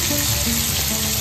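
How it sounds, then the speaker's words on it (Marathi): Gomar fish roe fries in hot oil in a pan, giving a steady, close, dense sizzle that crackles evenly throughout without pause. "गोमर फ्राय, गोमराचा अंडा फ्राय."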